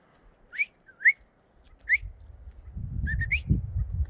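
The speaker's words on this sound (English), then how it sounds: "Sorry about the whistling on the camera" A person whistles to a bird: short rising whistles chirp several times in a quiet space, spaced apart, followed by a low rumbling noise underneath the last few.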